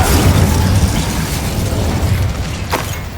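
Incendio fire spell cast in Hogwarts Legacy, a loud burst of roaring flame and crackling blast that fades into a lingering rumble, with a short whoosh near the end.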